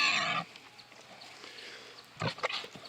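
Young goat on a spring homestead calling out once, a loud, close bleat at the start, followed by quieter rustling and another burst of animal noise near the end, with no talk over it.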